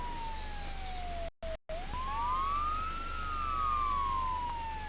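Siren switched on in the Roblox game Brookhaven, a clear wailing tone that sweeps down, cuts out briefly, then rises and falls again over a low steady hum.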